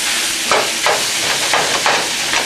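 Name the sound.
ground beef and Italian sausage browning in a pan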